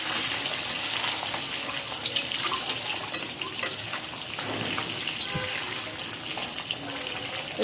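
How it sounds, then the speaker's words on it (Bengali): Boiled, peeled eggs rubbed with salt fry in a wok, giving a steady hissing sizzle punctuated by occasional clinks and scrapes of a utensil. "ডিমটা কড়াইয়ে ভেজে নিচ্ছি।"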